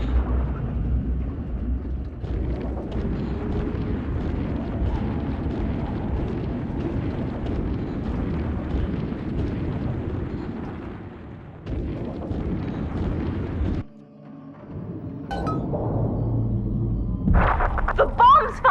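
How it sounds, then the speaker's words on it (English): Continuous roaring bomb explosions and rumbling destruction in BioShock 2 Remastered, a dense, loud wall of blasts and crashing that drops out briefly before more bursts near the end. "The bombs, Father! We're falling!"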